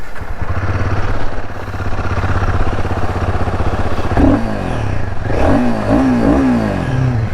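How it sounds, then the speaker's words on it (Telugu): A Royal Enfield Himalayan 450 motorcycle engine runs with a loud, close, throbbing beat, then rises and falls through several quick revs. "సో బైక్ అయితే ఆన్ చేద్దాం ఇప్పుడు. సో స్టార్ట్ చేద్దాం."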